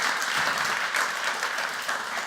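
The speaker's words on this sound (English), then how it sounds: "Vanessa Gebhardt, another applause." An audience at a goal-achievement talk gives speaker Vanessa Gebhardt sustained applause, a full wash of steady clapping from a large crowd, close and even throughout, with no talking over it.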